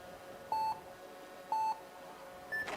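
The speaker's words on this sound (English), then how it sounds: "Waiting for the buzzer." Speed climbing final start buzzer at Villars 2023, sounding as two identical electronic beeps about a second apart, followed by a higher, shorter tone, clear and loud over faint crowd ambience.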